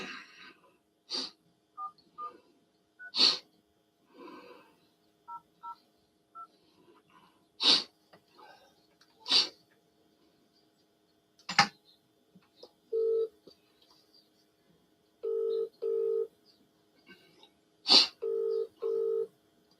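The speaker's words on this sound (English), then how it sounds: "I'll just go and call him on the mobile" Keypad tones from a mobile phone being dialed, a series of short electronic beeps spaced irregularly with a few quick double presses, close and fairly quiet with no talking.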